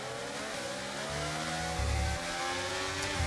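An F1 race car engine in the video game F1 23, a high whining roar that climbs in pitch through the gears with clear shifts, heard alone at moderate level.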